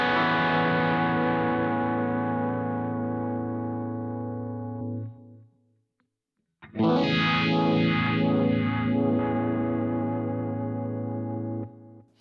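Electric guitar through a Boss GX-10 multi-effects unit on its Studio Blues patch, run in stereo: a long sustained distorted chord fades out, then after a brief silence a second chord swells with a swirling, sweeping modulation, loud with no talking.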